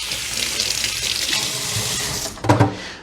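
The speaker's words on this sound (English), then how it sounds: "Let me just wash my hands off quick." Kitchen tap water runs steadily into a sink while hands are rinsed, a continuous close splashing rush that ends with a few brief louder splashes as the flow is cut.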